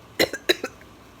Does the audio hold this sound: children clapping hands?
no